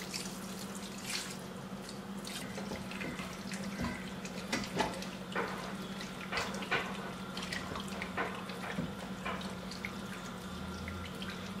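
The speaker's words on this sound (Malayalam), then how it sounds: "എന്നിട്ട് നമ്മൾ ആവശ്യത്തിന് കുറച്ച് വെള്ളം ഒഴിക്കുക." Water is poured into a clay curry pot of marinated beef on the stove, a steady running splash with scattered drips over a constant low hum, close and moderately loud.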